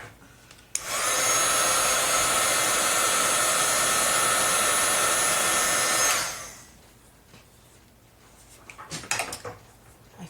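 A heat gun dries a coat of craft coating, blowing in one loud, unbroken rush for about five seconds before switching off, then light rattling and handling clatter nearby.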